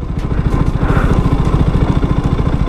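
A 2022 KTM RC200 motorcycle idles up close with a loud, even, fast-pulsing engine beat that holds steady throughout with no revving.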